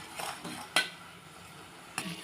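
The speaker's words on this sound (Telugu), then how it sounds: "చక్కెర కరిగేంత కలుపుతూ ఉండాలండి" A spoon stirring sugar syrup in a pot for motichoor laddu, with soft scraping strokes and a couple of sharp metallic clinks against the rim, close and fairly quiet.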